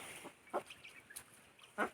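Several short, nasal calls from native country chickens ring out singly at irregular intervals, fairly faint, with quiet background noise between them.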